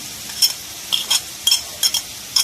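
Peppers are tossed into a frying pan of liver and gizzards, giving a soft sizzle broken by sharp stirring scrapes and utensil clinks that come in regular bursts about every half second.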